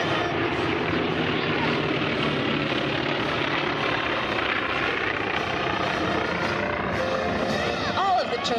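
North American T-28 Trojan propeller planes fly a formation display at the Culpeper Air Fest, a loud steady engine drone throughout with an announcer talking over it.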